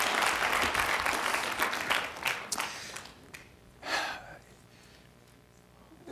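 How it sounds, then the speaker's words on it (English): An evening event audience applauds for Morgan, a dense burst of clapping that fades out after about three seconds, followed by a short cheer and then quiet room sound. "And applause for Morgan."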